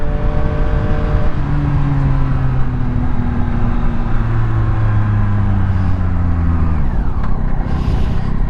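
A Yamaha XSR900 motorcycle rides along a highway in chilly winter air, its engine droning loudly and continuously with pitch rising and dropping through gear changes, plus steady wind rush, with no talking.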